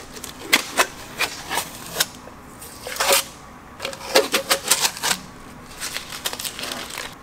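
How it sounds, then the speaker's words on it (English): Tape being peeled and torn off the intake of a Texas Speed 408 LS engine going into a D150 truck, heard as close, sharp ripping and crinkling bursts in irregular clusters, separated by brief quieter gaps. "So we're gonna untape all this."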